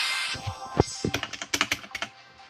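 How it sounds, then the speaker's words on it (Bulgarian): Close, quick keystrokes clatter on a computer keyboard in an uneven burst of about a dozen sharp clicks after a brief hiss. "Хора, чуете ли клавиатура?"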